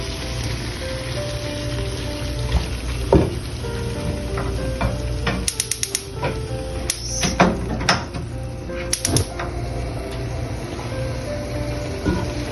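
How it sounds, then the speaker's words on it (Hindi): Chicken liver (kaleji) sizzles and fries steadily in a pan for a street-style masala dish, with a constant crackling bed and occasional sharper spatters and utensil clinks, fairly close and with no talk. "अच्छा, कलेजी को डाल देते हैं। इसके साथ में भुनाई करेंगे डाल के।"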